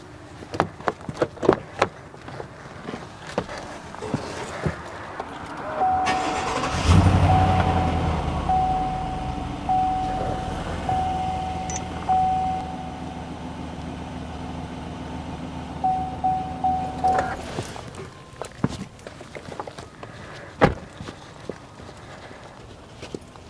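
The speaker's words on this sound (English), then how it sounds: "let me go ahead and start the engine." A 2019 Chevy Silverado with a freshly replaced battery cranks and fires up, then idles with a steady hum for about ten seconds before shutting off. Scattered clicks and handling noises come before and after.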